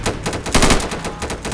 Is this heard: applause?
no